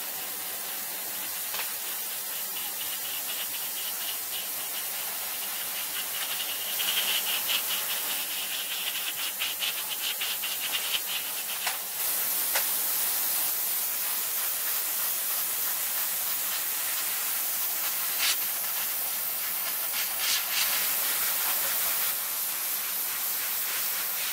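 Airbrush or spray gun applying lacquer-thinned XF-69 NATO Black acrylic paint to a Hasegawa SR-71 Blackbird plastic scale model, a steady close broadband hiss running continuously with brief louder bursts and no talking.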